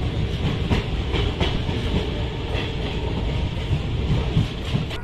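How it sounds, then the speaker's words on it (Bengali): A passenger train pulls out of Azimganj station and rolls along the tracks. It makes a steady, close, full rumble with light rhythmic clicks from the wheels. "ঘড়ির কাটায় 12:40, ট্রেন ছেড়েছে আজিমগঞ্জ"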